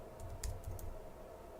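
Quiet typing on a computer keyboard while filling in a brand search form, a few light key taps clustered early then fading to faint background hum.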